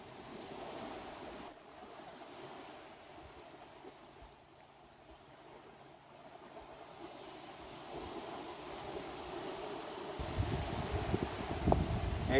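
Wind gusts over the shore of Kentucky Lake at about 15 mph, giving a steady rushing roar with buffeting on the microphone. The roar grows louder toward the end, and no voices are heard.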